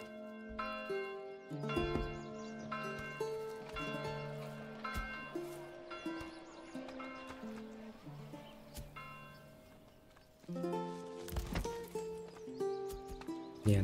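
Horses clip-clop along in the medieval city-building game Manor Lords, their steady hoof beats layered over a tuneful plucked musical score, moderately loud and continuous with no talking.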